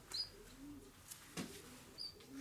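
Soft low cooing from racing pigeons comes in a few short, separate phrases, with faint chirps and light rustling, heard quietly and fairly close.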